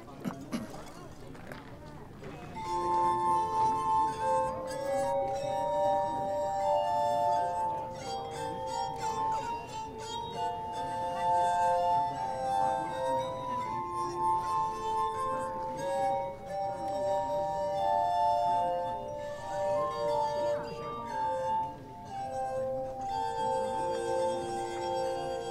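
Musical glasses play a slow, sustained solo adagio by Mozart, ringing bell-like tones in a gentle melodic line, moderately close with a soft background rumble and no talking.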